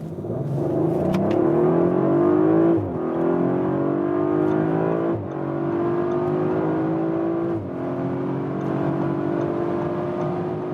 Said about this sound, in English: We'll start here about 30 kilometers an hour and accelerate it out.